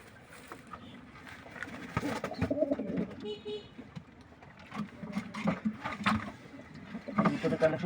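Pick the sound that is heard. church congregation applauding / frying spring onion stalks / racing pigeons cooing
racing pigeons cooing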